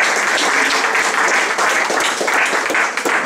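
A church congregation claps loudly in praise, a dense sustained round of applause from many people that fills the room evenly for the full stretch.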